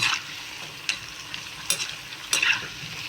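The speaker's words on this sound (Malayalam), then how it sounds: "ഇത് നന്നായിട്ട് ഇളക്കി മുറിച്ചെടുക്കാമേ ഇതിപ്പോൾ മൂത്ത് കേട്ടോ" Punugulu fritters fry in hot oil with a steady, close sizzle, while a spoon scrapes and stirs through them in several short, sharp strokes.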